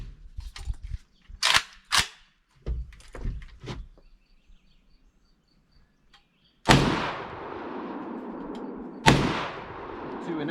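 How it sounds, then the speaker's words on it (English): Two sharp, loud AK-47 rifle shots ring out a couple of seconds apart outdoors, each followed by a rolling echo, after earlier quieter clicks and knocks of handling. "AK-47."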